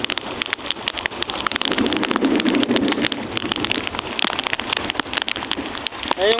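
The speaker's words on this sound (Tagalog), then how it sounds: "malakas yung hangin." Strong wind at sea on a fishing boat roars and buffets across the microphone in a constant rushing noise, broken by sharp gusty bursts, with no voices.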